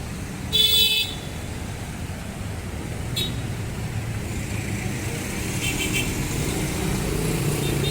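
Street traffic heard while walking home from a mall: a sharp car horn toot near the start, then steady engine and road rumble from passing vehicles, with a few faint clatters later.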